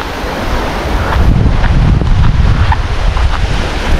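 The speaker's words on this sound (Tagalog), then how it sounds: "dito kami sa kabila mga idol dahil malakas yung hangin" Strong wind and crashing surf on a shoreline during shore-casting fishing, a loud, continuous roar of waves and wind buffeting the microphone, swelling slightly after the first second, with no talking.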